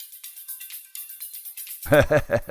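A deep house mix with swirling phase artifacts smearing the transients: a thin, high-pitched hi-hat pattern plays alone, then fuller beats with low thumps kick in for the last second, moderately loud and without voices.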